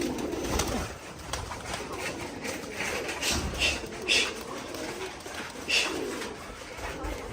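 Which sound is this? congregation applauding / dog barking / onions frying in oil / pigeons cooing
pigeons cooing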